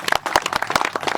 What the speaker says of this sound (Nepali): ताली बजाइदिनु जोरदार।